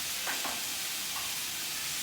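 Vegan chicken sizzling and frying in a non-stick pan, a constant bright hiss with a few soft scrapes and taps as it is stirred, close and loud.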